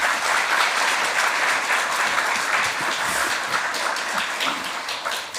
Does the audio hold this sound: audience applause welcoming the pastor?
yes